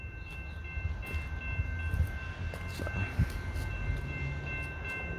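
A Metra commuter train on the Aurora–Chicago line passes at Westmont, Illinois, a low rumbling roll of wheels and cars with a sustained horn tone above it and rhythmic clunks over the rail joints; a brief word is spoken at the start.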